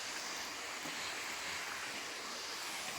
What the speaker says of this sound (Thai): อันนี้ก็คือ น้ำตกจกดิน